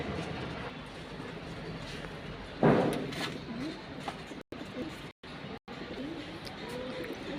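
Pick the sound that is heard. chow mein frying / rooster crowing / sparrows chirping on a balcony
sparrows chirping on a balcony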